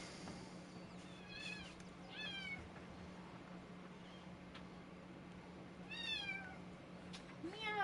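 A pet cat meows three or four times in short, rising-and-falling calls, faint and somewhat distant, over a constant low electrical hum.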